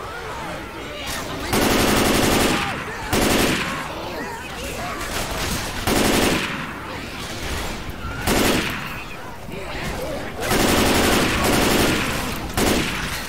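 Automatic gunfire from the Left 4 Dead 2 video game, sustained bursts of rapid shots repeating in loud blocks through the clip with short pauses between, a voice talking over parts of it.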